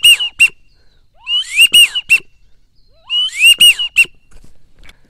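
A handheld duck whistle imitates a wigeon's three-note whistle, sounding in loud, close bursts of two high notes and a lower one, repeated with short silent gaps between groups.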